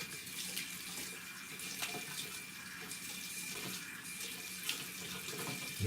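Water runs steadily from a tap into a sink, a constant soft hiss and splash that carries on alone without any talk.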